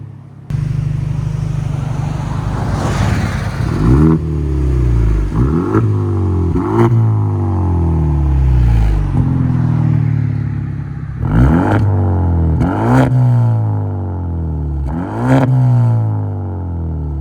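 A Genesis G70 2.0L turbo with a muffler delete and resonator exhaust roars loudly through repeated revs, rising and falling sharply several times, with a deep droning resonance between blips.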